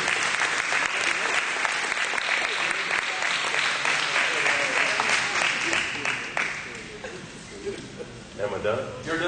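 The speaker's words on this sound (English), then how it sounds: "I want you to give a round of applause to this helper that I have" Audience applause at a chamber of commerce gala, loud and dense for about six seconds, then thinning to scattered claps as it fades near the end.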